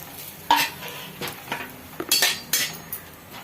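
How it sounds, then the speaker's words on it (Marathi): Grated coconut roasting in ghee in a pan, stirred with a metal spoon that scrapes and clinks against the pan in irregular bursts over a soft, steady sizzle. "आता याच तुपात खोबरं भाजून घ्यायचे"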